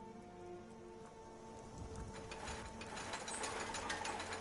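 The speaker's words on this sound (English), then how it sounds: "This rain will stop eventually." Steady rain falls in Skyrim, a dense, even patter that continues throughout with no voices over it.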